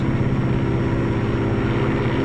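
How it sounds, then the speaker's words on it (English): Propeller engine drone of a Lockheed P-38 interceptor pursuit fighter, a steady, loud, close throbbing roar with a deep harmonic hum holding level throughout, no voices. "the interceptor pursuit P-38"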